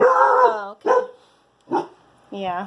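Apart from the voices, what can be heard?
dog barking in the background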